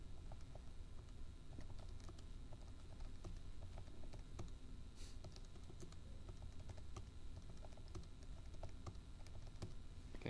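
Quick, light button presses on a graphing calculator keypad as data are entered, a close, steady run of small clicks over a faint room hum, with no talking.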